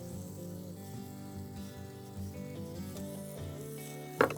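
Flathead fish pieces cook in butter on a barbecue, giving a quiet, continuous sizzle under soft background music, with a brief sharp clatter near the end.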